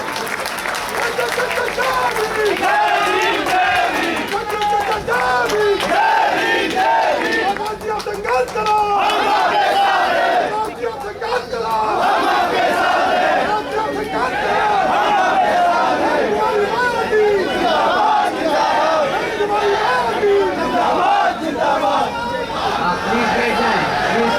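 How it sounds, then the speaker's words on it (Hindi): A large audience at a political gathering in Uttar Pradesh stands and applauds to welcome a speaker, dense sustained clapping with cheering and crowd chatter mixed in, loud and continuous. "सभी साथी खड़े होकर के उनका तालियों से स्वागत करेंगे।"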